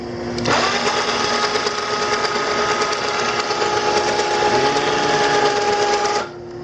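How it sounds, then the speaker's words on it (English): A workshop dust collector is engaged and cranked up ahead of resawing cedar logs, its motor starting with a loud steady whine that holds evenly for several seconds and then cuts off. "The dust collector, take this thing and put it in gear, pull the knob and put it in its slot and crank it up."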